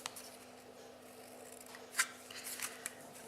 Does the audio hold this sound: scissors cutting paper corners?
yes